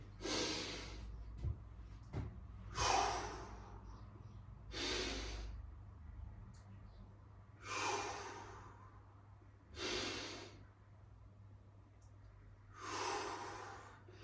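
Exercise breathing, a series of six heavy breaths spaced a couple of seconds apart, each a loud close rush of air over a low steady background hum.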